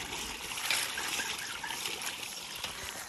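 Water trickles and runs through a newly unblocked drain pipe, a faint, continuous gurgling flow heard close by with no speech over it.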